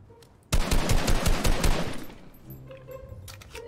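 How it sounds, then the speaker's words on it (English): Rapid automatic gunfire in the Fortnite video game, a dense, loud burst of shots lasting about a second and a half and then trailing off into fainter game sounds. "Oh, someone's shooting me."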